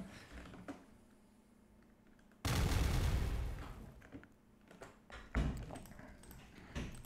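A TNT explosion in the Minetest block-building game: after a quiet stretch, a sudden loud blast booms and rumbles for about a second, then fades into a few scattered smaller pops and thuds.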